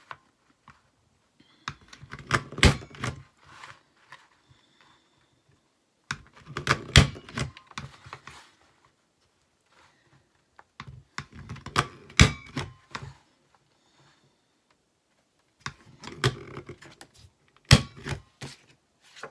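A die-cutting machine cuts paper for a memory book, making four separate bursts of dry clicking and clattering, each a few seconds long, with quiet pauses between them.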